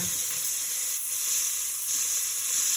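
Garlic sautéing in a pan, a steady bright hiss of oil close up with slight swells, continuous and unaccompanied by voices.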